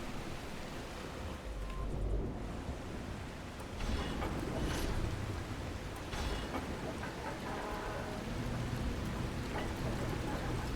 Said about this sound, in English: it is downpouring heavily, so I can't actually see where I'm going